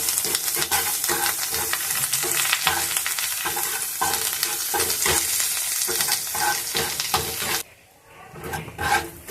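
Spice masala frying in a pan, a continuous close crackling sizzle broken by rhythmic stirring scrapes, easing near the end.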